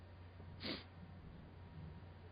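A single short sniffle, one quick breathy burst near the start, followed by quiet low room hum with nothing else standing out.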